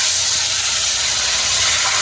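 Chicken frying in hot oil for a bachelor-style chicken dish, a loud, close, continuous hissing sizzle with a faint low rumble beneath, with no voices.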